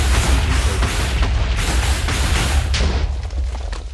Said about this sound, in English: I still don't like getting hit by the explosion.